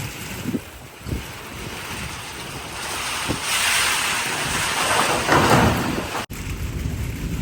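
Steady heavy rain pours with gusting storm wind in a Pakistani village, a dense continuous rushing hiss that swells and fades.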